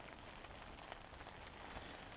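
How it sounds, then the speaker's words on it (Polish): Rain patters steadily on a covered fishing shelter, a soft, even hiss of drops with faint scattered taps, quiet and without talk. "A dzisiaj jest załamanie pogody, pada deszcz"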